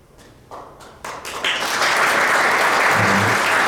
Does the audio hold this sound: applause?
yes